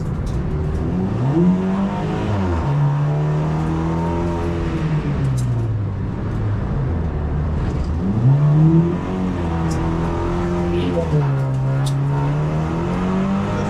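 A Lynk & Co 03+ lapping a Chinese racetrack, its engine heard close from inside the cabin, revving up and dropping again and again in long, loud sweeps through the corners, with no talking.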